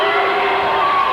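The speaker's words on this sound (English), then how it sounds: "Crowd making a lot of noise." A crowd at a 1983 high school basketball championship final in Winnipeg roars loudly and continuously, a dense wash of cheering and shouting that fills the whole moment.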